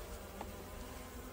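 Honey bees buzzing around an open hive during an inspection by a subarctic beekeeper, a faint, continuous drone of many wings held steady for a brief moment.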